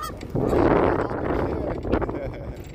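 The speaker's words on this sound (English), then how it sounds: "Hey, we got some geese here." A few geese honk nearby along the Chicago lakefront amid wind noise, their calls loud at first and then trailing off in scattered bursts.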